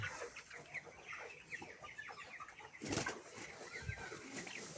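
Young broiler chickens on a struggling farm cluck and chirp in a quiet shed, soft scattered calls from a flock close by with some rustling, no talking.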